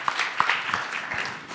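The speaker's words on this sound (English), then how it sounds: "Give yourself a round of applause." An audience at a body language talk gives a short, light round of applause, scattered claps close by and fading out quickly.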